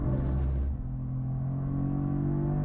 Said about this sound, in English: you can hear PTM popping off right there, just trying to get the throttle, get maximum drive down the front straight